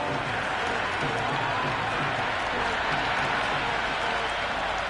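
A stadium crowd at an IPL T20 cricket match between Delhi Capitals and Gujarat Giants roars and claps in a continuous, broad wash of noise. It holds steady and loud throughout, with commentary-style talk blended in.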